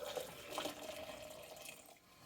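Freshly brewed coffee is poured into a cup with a faint, short, continuous liquid trickle, heard alone.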